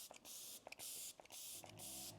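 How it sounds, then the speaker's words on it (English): A spray bottle of hydrating facial water spritzes three or four short, crisp hissing bursts at close range, each lasting about half a second, with brief quiet gaps between them and no talking. "whenever I walk past this mirror up here, I just spritz myself"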